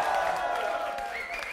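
A live concert audience applauds and cheers for a rapper at a show at RSI Rete Tre, a steady wash of clapping and crowd noise under lingering music.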